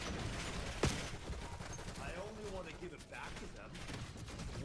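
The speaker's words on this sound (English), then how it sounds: "It's just them shooting me." Enemy gunfire in the Black Ops 6 video game: a sharp nearby shot followed by scattered quieter bursts and mechanical clatter, set under a player's voice talking and reacting.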